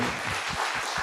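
Congregation applause at a Korean revival Sunday church service, thanking those who served food and snacks; a steady, dense wash of clapping fills the whole second at moderate level.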